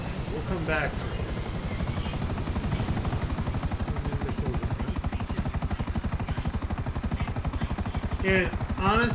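A helicopter in GTA 5 Online chops steadily with a rapid, rhythmic rotor beat, loud and continuous throughout, with someone talking over it in short bursts.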